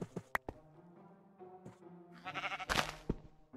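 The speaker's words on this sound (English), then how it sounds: "Hear sheep, so there's a chance I do that." Sheep bleat in a video game, a few quiet, wavering calls overlapping one another, with a louder bleat near the end and no talking.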